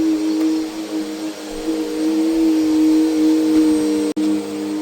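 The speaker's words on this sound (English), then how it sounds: "First we're going to pre-vacuum all this" A vacuum cleaner runs steadily and close by as it pre-vacuums a carpet, a continuous droning whine with a brief dip near the end.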